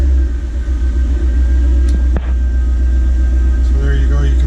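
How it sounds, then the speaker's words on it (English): A 2014 Ford Boss 302S race car engine rumbles at a steady, loud idle right after being fired up, with a deep continuous low drone and a brief mechanical clank partway through. "we'll just fire the car up so you can hear the sound of it"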